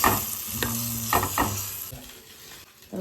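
Paneer tikka sizzles in melted butter in a hot pan, a close, crackling fry with a few stirring or brushing scrapes that gradually softens toward the end.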